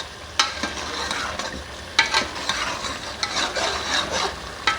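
Palak gosht mutton and spinach are stir-fried with crushed kasuri methi, giving a close, loud sizzle broken by repeated scraping strokes of a spoon against the pan in an uneven rhythm, with no voices.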